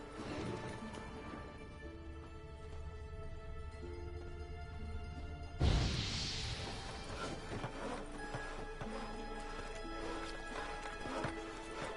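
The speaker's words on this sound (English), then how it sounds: "Come here, you fucking horse." Steady clip-clop of horse hooves on hard ground in The Witcher 3: Wild Hunt, broken by a sudden heavy thump partway through before the hoofbeats carry on.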